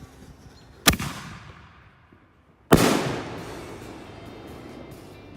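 Two Black Diamond Crushing It five-inch firework shells burst overhead, each a sharp, loud boom followed by a long crackling, rumbling tail. The second blast is heavier and lingers longer.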